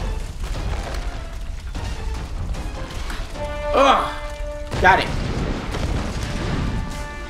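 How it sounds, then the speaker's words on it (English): Deep booms and crashes rumble through a noisy Tomb Raider game scene, with two louder bursts near the middle and a person exclaiming over them. "So much explosions, man!"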